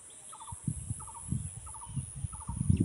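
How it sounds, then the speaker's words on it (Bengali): A bird calls repeatedly in a gobbling, fowl-like burst roughly every half second. It sounds faint and distant across quiet rural paddy fields, with a steady high hiss in the background. "দূরে একটা পাখি ডাকছে, আপনারা শুনতে পাচ্ছেন।"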